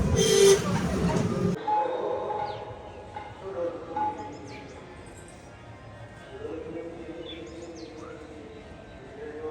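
A train at a rural Bengal station, just after passengers have stepped off. A loud burst of broadband rumble opens the clip, then gives way to quieter, distant tones over a steady background with faint bird calls.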